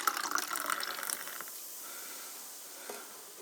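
Sparkling water poured into a glass over orange Gatorade mix, with a fizzing, splashing pour at first that settles into a softer crackle of bubbles.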